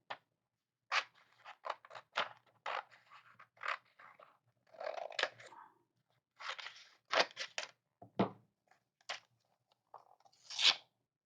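Scissors cutting through glossy magazine paper, with close, crisp crunching snips that come in irregular bursts separated by short pauses.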